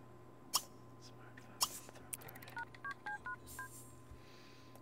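A smartphone being dialed in The Sims video game: a quick run of about six distinct keypad tones after a couple of sharp clicks, faint and close, with quiet game ambience and no clear talk.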